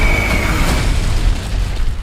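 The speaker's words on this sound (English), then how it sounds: "She may be capable of a nuclear explosion." A nuclear explosion effect from a movie trailer: a loud, sustained rumbling boom that rolls on for two seconds, heavy in the low end, with no voices over it.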